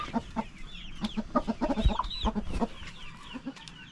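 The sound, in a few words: rooster and hen clucking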